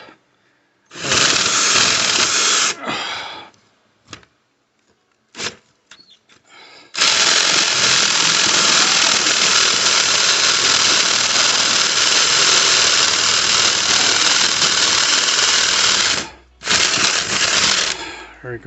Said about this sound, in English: That drill bit is a drill bit made for concrete.